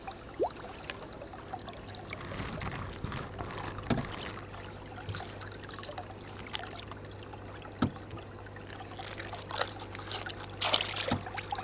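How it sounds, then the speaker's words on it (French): A large fish, about 80 cm long, is slipped back into the water from a boat while drifting, giving soft splashes and trickling water with a few sharper sloshes over steady low boat hum. "on le remet à l'eau"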